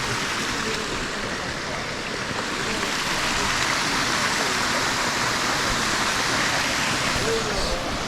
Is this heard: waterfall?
yes